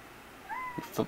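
A cat gives a single short rising meow, close and fairly faint, with a couple of small clicks right after it.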